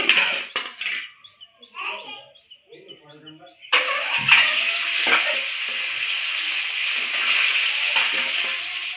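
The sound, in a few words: boiled duck eggs frying in hot oil in a wok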